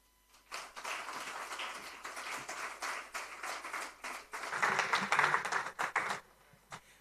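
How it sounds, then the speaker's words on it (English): Audience at a sustainable finance summit applauds the keynote speaker, steady rounds of clapping that swell midway and fade out near the end, heard without speech. "Please let's give another round of applause to our keynote speaker this morning"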